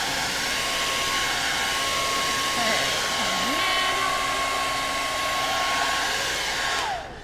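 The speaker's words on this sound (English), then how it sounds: "I don't know if you heard that over the blow dryer" A blow dryer drying paint on a wooden sign runs steadily at close range with a constant loud whoosh and a tonal hum, then cuts off at the end.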